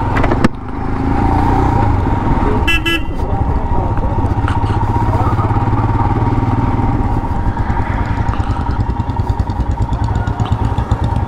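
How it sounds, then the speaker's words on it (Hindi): A new Royal Enfield Himalayan motorcycle rides along, its engine a loud, steady throb running throughout with a brief rise near the start. "भाई कुछ भी कहो, नई बाइक चलाने का मज़ा ही कुछ और है।"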